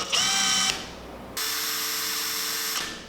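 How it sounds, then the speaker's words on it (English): Two bursts of a power drill whining at steady high speed into soft cedar wood, drilling the eye socket of a fishing lure, a short one then a longer one after a pause, close up with no talking. "I'm gonna drill out the eye socket."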